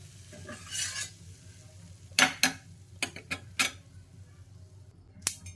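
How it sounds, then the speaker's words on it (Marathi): A methi and jowar flour paratha roasts on a griddle, with several sharp spatula taps and scrapes against the pan over a soft, low sizzle. "आणि अशाच प्रकारे आपण सगळे पराठे भाजून घेऊया"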